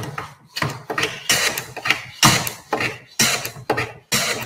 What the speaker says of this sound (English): you notice that sound is actually its individual shavings coming off.